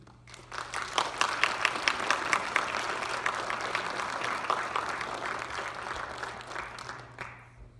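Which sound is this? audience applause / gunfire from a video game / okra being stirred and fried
audience applause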